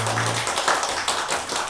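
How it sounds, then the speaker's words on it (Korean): A church congregation applauds the choir, conductor and accompanists during a Sunday worship service: dense, steady clapping from many hands that continues evenly throughout the short stretch. "우리 이렇게 찬양하고 지휘하고 우리 반주하시는 분들을 우리 격려하는 차원에서 또 감사의 박수 한번"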